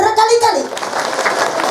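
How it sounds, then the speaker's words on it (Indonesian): A young voice calls out briefly, then an audience of schoolchildren bursts into a short, loud round of hand clapping that carries to the end. "sakali deui tepuk tangan satu kali"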